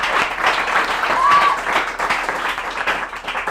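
Students and spectators at a school competition show applaud loudly, a thick sustained wall of clapping with voices and cheering mixed in throughout.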